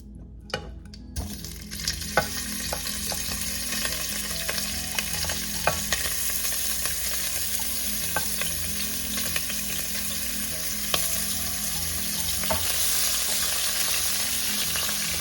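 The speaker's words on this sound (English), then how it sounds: "Here we're going to start browning our pork here." Pork browning in a pan over medium-high heat for a shrimp paste stew, a dense continuous sizzle with scattered sharp pops and occasional stirring scrapes, close and steady, no talking.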